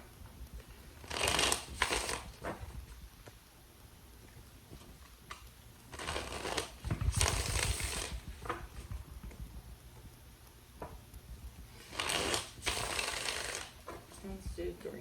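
Tarot cards are riffle-shuffled in three distinct bursts of crisp, papery ruffling, each about a second or two long, with quieter handling in between.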